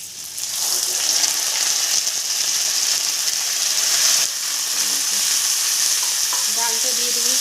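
Rice frying in a hot pan for khichuri, a loud, dense sizzle that holds steady, with brief stirring scrapes and a faint voice near the end.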